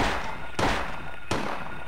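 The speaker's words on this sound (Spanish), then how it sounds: "Ay, güey, fallé un disparo." Gunfire in the video game Silent Hill: two sharp, loud shots about three quarters of a second apart, each with a short ringing tail over a low background.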